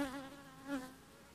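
Honeybees buzzing at an autumn hive entrance as foragers return with pollen from squash flowers, a faint, close buzz with two brief swells of wingbeat whine, no voices.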